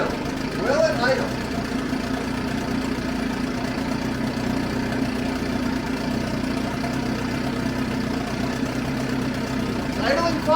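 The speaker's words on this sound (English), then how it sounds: "It's idling fine" A 1979 Sea King 15 hp outboard motor idles steadily in a low, even drone for the whole stretch, with faint wind noise and brief voices over it at the start and end.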